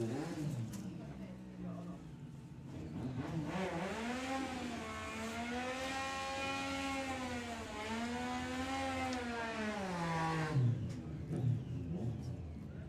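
At a drag racing street weekend, a motorcycle engine idles and then revs with rising and falling whine, loud and fairly close, before dropping back, with a couple of sharp bumps near the end.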